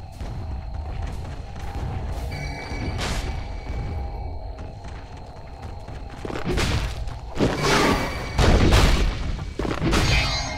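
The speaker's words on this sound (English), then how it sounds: "Radiant's top tower has fallen." A tower collapsing in Dota 2 amid combat, with deep booms, thuds and whooshing impacts layered over steady game ambience, building to a cluster of heavy crashes near the end.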